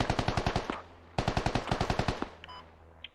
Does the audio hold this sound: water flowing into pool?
no